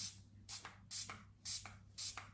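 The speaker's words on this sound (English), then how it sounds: "So you gotta give it a good shake." A bottle of setting spray shaken in four quick, evenly spaced bursts, soft and close, with a steady low hum underneath and no talking.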